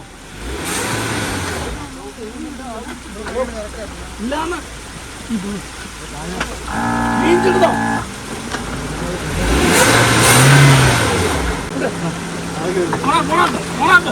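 A 4x4 off-road vehicle reverses on a hill trail with its differential locker engaged, the engine revving in surges at mid range close by, with people talking over it.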